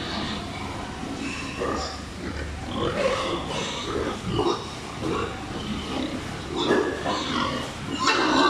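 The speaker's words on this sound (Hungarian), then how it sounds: "Nagyon szép, egészségesek ezek a disznók." Pigs grunting and squealing at a farm in Pursat province, Cambodia, with restless, overlapping close-range grunts and snorts throughout, rising at moments into louder squeals.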